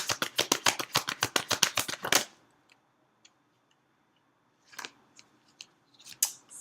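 Tarot cards are riffled in a rapid run of about fifteen crisp close snaps, then after a quiet pause a few softer card slides and flicks as cards are drawn.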